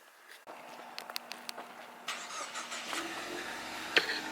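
A 2015 Ford Mustang drift car engine started by remote, a quick click and cranking followed by the engine catching and settling into a low, steady idle rumble close by.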